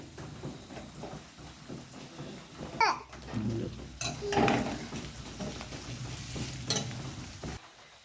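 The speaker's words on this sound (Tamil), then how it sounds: "வெங்காயம் பாருங்க வதங்கிக்கிட்டே இருக்குது" Onions sautéing in a pan for Tamil-style fish curry, a steady close frying sizzle with occasional stirring scrapes and clinks, no talking.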